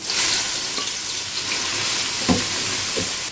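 Four finely chopped onions hitting hot melted ghee in a large pot for duck biryani, producing a loud, steady, close sizzle with a couple of faint stirring knocks and no talk.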